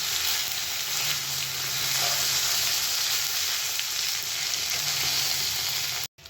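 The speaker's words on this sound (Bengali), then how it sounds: "ফোড়নে দিয়ে দিলাম জিরে দিয়ে দিলাম তেজপাতা" Cumin seeds and bay leaf sizzle in hot oil for tempering, a steady, close crackling hiss that continues evenly throughout with faint stirring.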